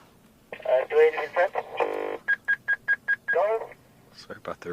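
A loud two-way radio on a nature reserve crackles close by with bursts of transmitted voice and a run of short, evenly spaced tones, stopping and starting in quick chunks.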